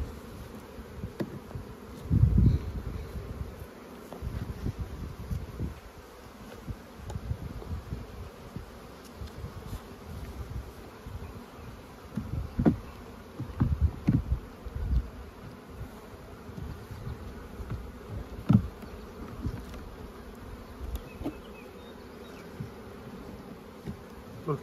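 Honey bees buzz around an open hive during an inspection of weak colonies, a dense, continuous close drone with individual bees swelling louder as they fly past.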